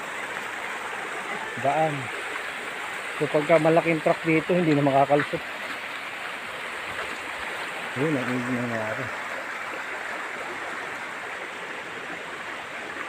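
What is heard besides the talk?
swollen river rushing during typhoon Kristine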